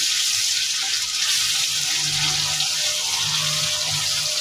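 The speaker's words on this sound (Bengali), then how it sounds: "এই মশলাটা এখন আমি ভালো করে তেলের সাথে ভেজে নেব" Marinated spice paste for chicken jhal fry fries in hot oil, giving off a steady, even hiss of sizzling that carries on without a break.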